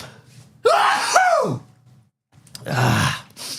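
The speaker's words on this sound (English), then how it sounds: "I got to sneeze." A sharp inhaling gasp rises into a loud, close sneeze, followed after a pause by a breathy exhale or second burst.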